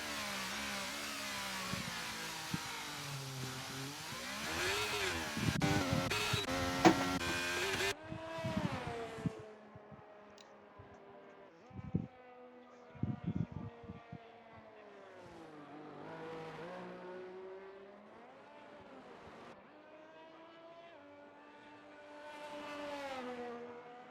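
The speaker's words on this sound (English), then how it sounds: "So Jamie Hester is about to start his lap" Race car starting a lap on the revised Singapore street circuit, its engine revving up and down through gear changes, with brief louder bursts and a fluctuating whine that fades between corners.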